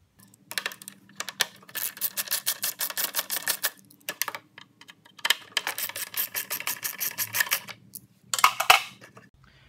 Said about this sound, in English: take off the three bolts, 1, 2, 3, that hold this cover on.